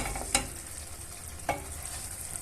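Quiet stirring of a green bean stew in a pot, with two soft scraping clinks of a utensil over a faint, low sizzle.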